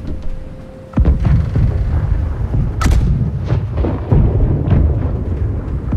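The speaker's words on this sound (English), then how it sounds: "Keep firing left side cannons." Ship cannons in the naval video game Blackwake fire in a steady barrage of heavy, close booms that roll over a constant rumble of battle noise.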